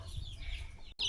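Small chickens on a rural farm, including Betong and Brahma breeds, give soft, quiet clucks over low background rumble, ending with a brief louder high note.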